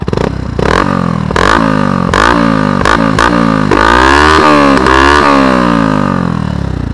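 A Yamaha YZF 125 R motorcycle with a Leovince exhaust and baffle fitted revs hard repeatedly up close, loud blipping throttle bursts rising and falling with a raspy, muffled exhaust note.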